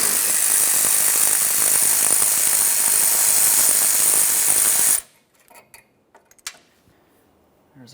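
An 8mm bolt being loosened from a bracket on a 2004–2008 Ford F-150, a loud rapid buzzing rattle from a power tool for about five seconds that stops abruptly, followed by a few faint metallic clicks and handling taps.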